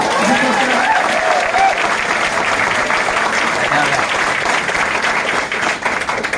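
Audience at a Vestige business meeting clapping, a loud continuous burst of applause from many hands filling the whole stretch.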